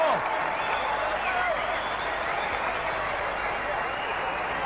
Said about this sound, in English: The Sri Lankan spectators cheer.